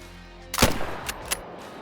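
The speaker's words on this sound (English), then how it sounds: "let's shoot it. So this is an over 300 meter shot with the new 257" A single sharp .257 rifle shot fired at a deer in a hunting video game, loud and close with a brief echoing tail and a couple of fainter follow-up cracks, no talking.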